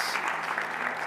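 Audience applause at a youth church service, a dense steady wash of clapping filling the whole moment without a break.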